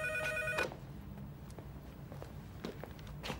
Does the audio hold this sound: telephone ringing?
yes